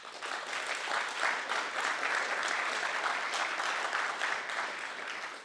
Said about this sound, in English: big applause for him for making this possible here